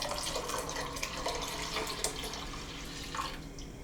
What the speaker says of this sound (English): So we'll add water as we need as these cook.